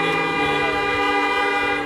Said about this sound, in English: Blow your horn.